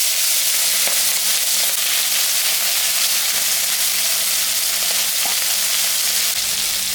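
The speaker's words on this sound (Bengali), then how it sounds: "আমি এখন মাছটা ভাজবো।" Fish frying in hot mustard oil in a wok, a loud, steady close-up sizzle and crackle that runs unbroken throughout with no voices.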